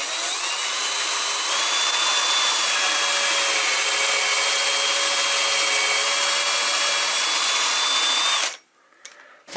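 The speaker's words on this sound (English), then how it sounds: "I'm just going to do a test drill first on this bit of scrap that I've got left." A power drill bores a test hole into a scrap piece of wood with a depth gauge set to 40mm, a loud, steady whine with sustained tones that cuts off abruptly near the end, followed by faint handling noise.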